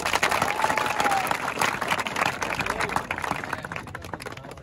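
A crowd at a Gurjar-versus-Yadav contest breaks into loud, sustained applause, dense clapping with some cheering that holds steady for several seconds.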